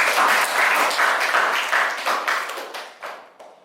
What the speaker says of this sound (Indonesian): Tepuk tangannya buat Ana.